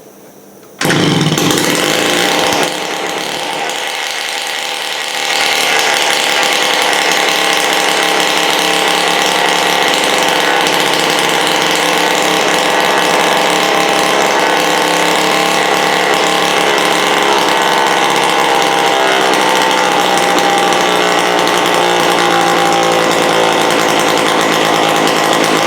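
A 1979 Honda Express moped's small two-stroke engine starts and settles into a loud, steady buzzing idle with a rattly mechanical edge, running continuously close by with no talking.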